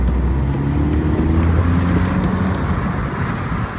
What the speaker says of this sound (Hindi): स्पोर्ट मोड में जब चलाते हो गाड़ी बहुत तेज भागता है गाइस